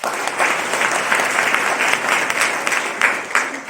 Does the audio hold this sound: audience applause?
yes